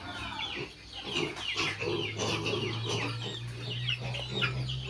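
Several chickens cluck and chatter close by, with a steady low hum running underneath throughout.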